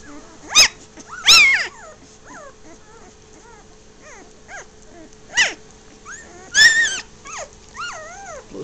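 A dog barks and growls in a few loud bursts, with whimpering yips in between, alone without talk.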